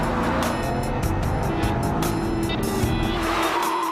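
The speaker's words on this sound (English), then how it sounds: "The Porsche sounds like a herd of angry elephants." A Porsche Cayenne Turbo S drives hard, its engine roaring continuously up close alongside tire noise and rushing wind, with no talk over it.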